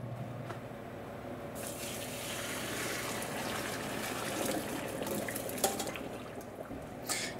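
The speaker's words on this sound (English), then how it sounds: "It's just shy of al dente. I'm going to strain it. The water is very starchy." Starchy water from cooked gluten-free pasta pours steadily through a strainer in a kitchen sink, a continuous rushing splash lasting several seconds at moderate level, with no talking.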